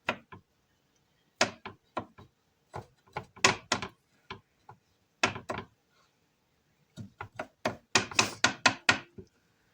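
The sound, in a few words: knife chopping peeled garlic small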